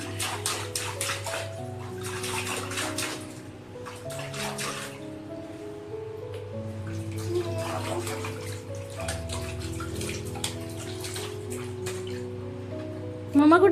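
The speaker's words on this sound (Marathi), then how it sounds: "पाणी" Water runs steadily into a bathtub or basin at home, a continuous close splashing stream that fills the whole stretch, with a voice and other household voices talking and calling over it.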